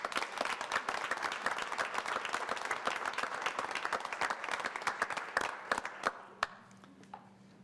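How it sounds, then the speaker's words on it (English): A crowd at a town council meeting applauds with dense, steady clapping that carries on for several seconds before thinning out and fading to a few last claps. "let's give them one more round of applause"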